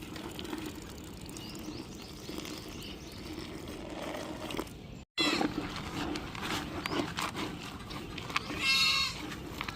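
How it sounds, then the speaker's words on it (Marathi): Goats grazing outdoors in a sorghum field in the early morning over a steady rural background hum, with a brief bleat rising near the end. "त्या ठिकाणी शेळ्या अशा शांत चरत आहेत सकाळ सकाळ"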